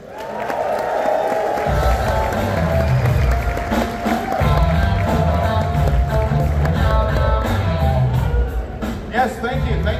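A comedy club audience cheers, whoops and applauds loudly as a comedian takes the stage, with sustained clapping and crowd noise throughout and background music under it.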